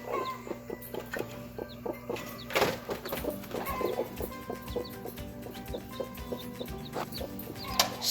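A broody mother hen clucks steadily in a brooder beside her chick, a close run of short repeated clucks with occasional louder squawks.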